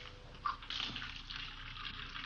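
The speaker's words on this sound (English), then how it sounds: "We found her in the kitchen washing dishes." Water runs steadily into a kitchen sink during dishwashing, a quiet close stream with one brief clink near the start.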